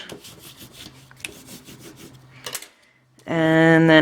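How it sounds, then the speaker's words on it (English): Folded paper is rubbed down along its score lines in a few short scraping strokes, quiet and close, with a louder buzzing tone cutting in at the end. "Fold on your score lines and"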